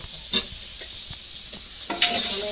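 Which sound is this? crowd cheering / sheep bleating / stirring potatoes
stirring potatoes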